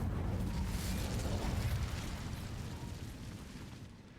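Bombarda explosion spell in Hogwarts Legacy, a loud rumbling blast with crackling debris that slowly fades over several seconds.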